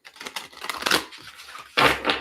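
A deck of cards being shuffled by hand during a card game, a quick run of crisp papery riffling bursts close by, ending in one louder flurry.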